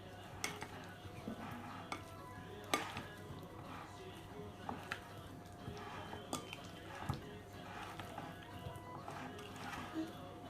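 Dill potato salad gets mixed in a bowl, with soft scraping and irregular clinks of utensil on dish spread across several seconds, quiet and close.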